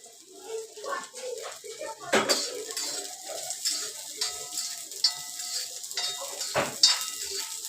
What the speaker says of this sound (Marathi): हे हलक हलकं भाजलं की कांदा घालायचा हा कांदा घालते